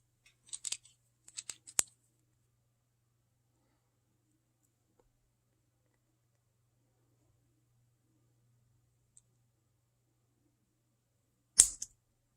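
Someone pulls the plastic diffuser cap off a Sylvania 194 LED bulb and breaks a tab. A few faint, close plastic clicks come first, then a long quiet stretch, then one sharp snap near the end.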